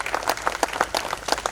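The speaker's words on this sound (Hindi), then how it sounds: "तालियां बजती रहनी चाहिए।" A theatre audience gives the cast of a Hindi stage play sustained applause. Many hands clap in quick, uneven bursts, close and fairly loud, and no one speaks over it.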